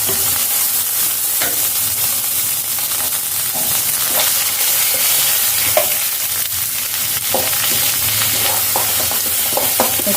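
Grated coconut frying in a pan, a steady dense sizzle with occasional stirring scrapes, close and continuous with no talk.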